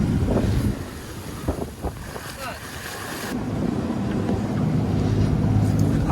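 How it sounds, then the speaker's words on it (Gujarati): Wind buffets the microphone over a steady low rumble of a fishing boat moving through rough sea off Porbandar, with splashing and waves throughout. "આપણી અત્યારે સલિંગ મારેલી છે પાણીમાં."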